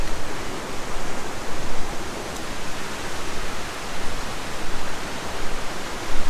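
A Himalayan waterfall on the Annapurna base camp trek roars in a loud, dense, continuous rush of falling water that fills the whole scene without a break.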